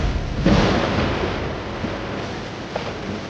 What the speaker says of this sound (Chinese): 师傅，打雷了，马上要下雨了